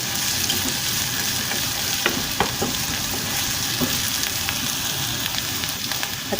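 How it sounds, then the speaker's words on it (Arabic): Tripe sizzling and frying in a pan with garlic, green chili and chili harissa paste, a loud continuous crackle with scattered sharper pops and stirring scrapes, close up, with no one speaking. "هنزل بالكرشه على طول"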